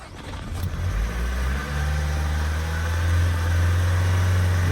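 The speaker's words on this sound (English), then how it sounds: "Right, I'm going to start the car now." A Renault Trafic van's diesel engine cranks and starts with a rough burst, then settles into a raised, steady high-RPM drone that grows slightly louder toward the end, close by and without talk.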